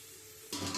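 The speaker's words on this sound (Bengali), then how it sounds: "এই মশলার মধ্যে আমি মাছের ঝোলটা এই যে ঢেলে দেবো।" Fish curry broth poured into spices frying in a pan makes a sudden loud, close sizzle that bursts up after a quiet moment and continues hissing to the end.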